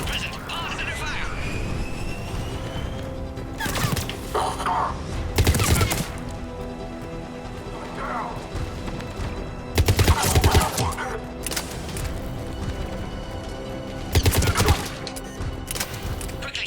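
Gunfire erupts at an embattled checkpoint in the sci-fi game Mass Effect, with bursts of shots recurring every few seconds over a steady ambient drone while voices talk intermittently.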